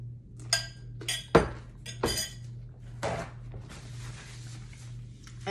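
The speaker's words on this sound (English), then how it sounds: "But you wanna go ahead and just mix it really thoroughly." Spicy cucumber salad is mixed in a bowl: a few bright clinks and taps of a utensil against the dish, with soft wet stirring scrapes between them, close and quiet.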